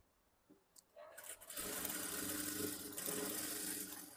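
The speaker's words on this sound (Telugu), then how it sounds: "స్టిచ్ వేసుకోవాలి." A sewing machine stitching a blouse starts after a few faint handling taps and then runs in a steady, close, fairly loud whir for the remaining few seconds.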